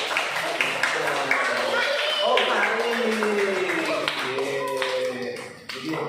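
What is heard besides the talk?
classroom applause for a student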